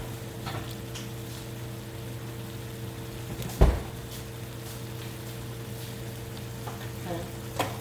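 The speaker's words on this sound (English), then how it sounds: "we're going to let that simmer a little bit" Enchilada sauce with cilantro simmers in a pan, a steady low bubbling hiss under kitchen hum, broken by one sharp clunk of a utensil midway.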